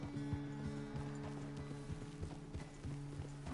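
Horse hooves clip-clop in a steady walking rhythm in Red Dead Redemption 2, repeated close thuds over a low game ambience, faint overall and without talk.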